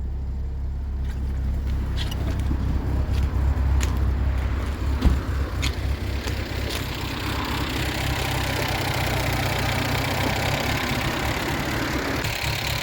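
A classic car engine idles steadily at close range, a low, even rumble running for about thirteen seconds with no talking.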